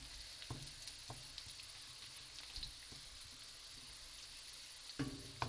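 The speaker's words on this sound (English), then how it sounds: "I let it to be a little fry in the oil" Cumin seeds (jeera) frying in hot oil for a chicken karahi give a steady, soft sizzle and crackle throughout, with a few louder pops and clicks, heard close and alone.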